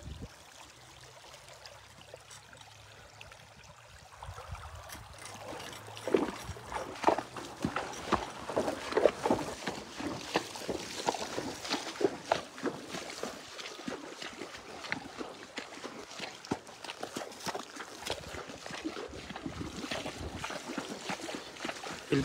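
A river flows and splashes as a horse stands and then wades along its course on an afternoon ride, a quiet stretch giving way to steady watery churning mixed with hoof splashes.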